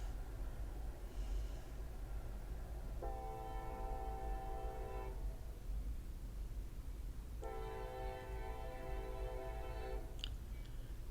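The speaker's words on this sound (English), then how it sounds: "It looks like a fairly long train." A long freight train passes through Seymour, Indiana, sounding two sustained horn blasts some distance away over a steady low rumble, with no talking.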